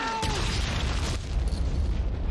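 Loud bomb explosion from the war film Saving Private Ryan, a deep booming blast that erupts suddenly and rumbles on with dense low-end roar for a couple of seconds, with no talk over it.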